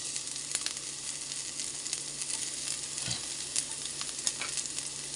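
Garlic frying in a hot pan, a steady dense sizzle that stays loud throughout with faint stirring scrapes and small pops close by, no talking.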